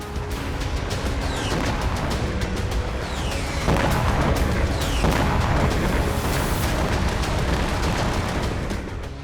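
Loud, dense rumbling with repeated sharp blasts and booms from Russian missile strikes on Ukrainian cities, explosions going off in quick succession amid continuous crackling noise.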